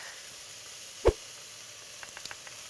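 Garlic dropped into a pot for beef stew, a single soft plop followed by a low continuous sizzle and a few small crackles, quiet and close.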